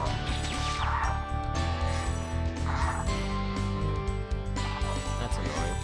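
Flying crow-chicken-cow enemies in the video game Spyro the Dragon let out repeated squawking, gobbling calls over busy, loud game music, with no talking.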